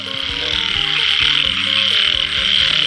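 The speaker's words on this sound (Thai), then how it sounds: "อู้เสียงกบ" A dense chorus of frogs croaking at night after rain during a frog-catching outing, loud and close, steady overlapping pulsing croaks with a bright high trill layer throughout, no voices.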